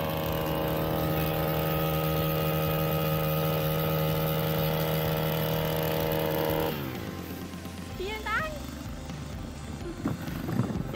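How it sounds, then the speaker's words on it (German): A motorized drill bores holes for tree planting across a path in a damaged Harz forest, a steady engine drone that cuts out after about seven seconds, leaving quieter outdoor sounds. "Und das Geräusch im Hintergrund ist übrigens der Bohrer, weil auf der anderen Seite von dem Weg werden gerade neue Löcher gebohrt."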